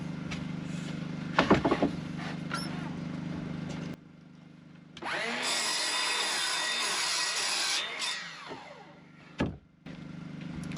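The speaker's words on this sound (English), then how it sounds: "Cordless chop saw is great." A cordless chop saw slices through a piece of wood during a house renovation, its motor whining up loud and close for about three seconds before spinning down, with short knocks and handling clatter on either side.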